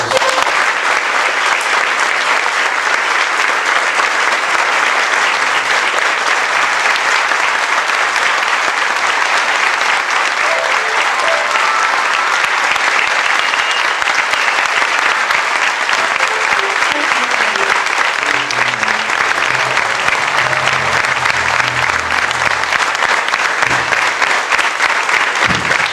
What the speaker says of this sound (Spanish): fuerte de los aplausos